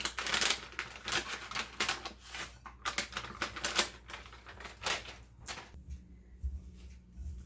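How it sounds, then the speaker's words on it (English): Sliced almonds rattling out of a bag into a bowl in a home kitchen, a dense crisp patter of light clicks in bursts that thin out toward the end, close by. "I'm going to finish off this bag of sliced almonds"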